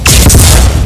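Cartoon optic blast bouncing off a mirror in an animated superhero fight, a loud continuous blasting burst with a crashing boom that runs the whole short moment, no talk.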